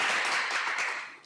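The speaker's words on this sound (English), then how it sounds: "let's give our HP panelists a big round of applause" An audience gives a short burst of applause for HP panelists at a tech careers panel, a dense patter of clapping that tapers off quickly.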